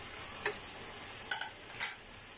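Pork ribs caldereta with bay leaf and pepper in a pot, stirred with a few soft scraping taps close by over a faint simmer, with no talk.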